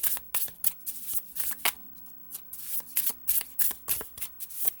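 Oracle cards being shuffled by hand, a series of crisp riffling and slapping bursts in an uneven rhythm, close and fairly quiet, with no talking.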